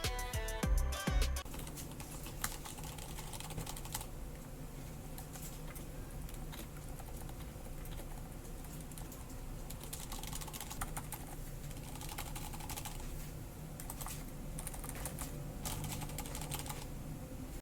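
Typing on a Keychron keyboard with Cherry MX switches: a steady, quiet patter of key clicks continuing throughout, fairly soft and even.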